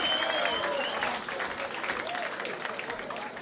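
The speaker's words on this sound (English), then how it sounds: "so big round of applause for him as well," A crowd at a live mod gig in a Brighton club claps and cheers in sustained applause, fairly distant and softening toward the end, with voices and whoops mixed in.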